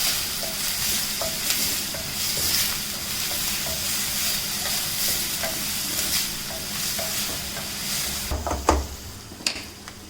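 Poha tempering sizzles steadily in a pan, a close, continuous frying hiss with light stirring clinks, then louder scraping and clatter near the end as ingredients are mixed, with no talk.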